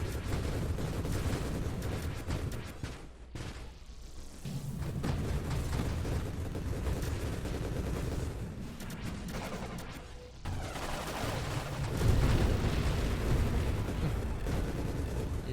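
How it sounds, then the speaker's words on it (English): Ship weapons firing continuously in the Nova Drift video game, a steady, dense stream of rapid shots and bursts, loud and close throughout with a brief lull near the middle. "I'll shoot in a general that way direction"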